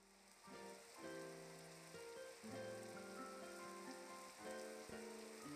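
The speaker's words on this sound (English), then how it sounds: "it's raining, so probably gunshot didn't make that far" Soft, steady rain hiss falls in the Gore Screaming Show horror game, a faint constant patter running beneath sustained, low musical tones throughout.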